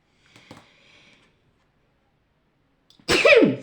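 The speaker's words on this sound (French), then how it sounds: "Je vais pas tarder à éternuer." Faint murmur of voices, then after a silence a single loud, close sneeze bursts out near the end.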